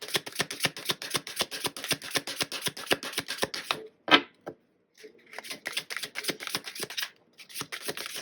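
Tarot cards riffle and snap in quick repeated bursts, a brisk rhythmic shuffle that pauses briefly, then resumes with single cards slapped down, close and clear with no talk.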